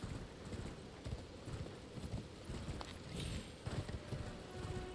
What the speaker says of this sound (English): Having a double jump in here on this horse is just so nice.